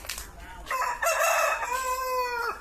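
A rooster crows loudly and close by at an aseel poultry farm in Mudarangadi near Udupi, one drawn-out crow following a brief clucking start.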